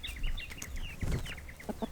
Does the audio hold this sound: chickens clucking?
yes